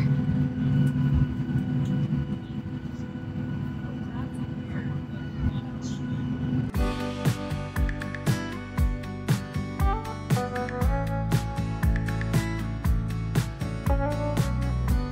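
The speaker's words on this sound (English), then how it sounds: "We're about to take off, which means nap time cleared for departure." A plane takes off in a steady roar heard from inside the cabin, and partway through the rumble turns into a louder, rattling mechanical din with repeated thumps.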